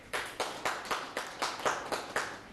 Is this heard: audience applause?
yes